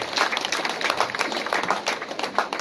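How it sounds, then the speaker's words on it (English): An audience at a university graduation ceremony claps together in a dense, steady patter of many hands that keeps going without a break. "Let us give a hearty clap as she walks back."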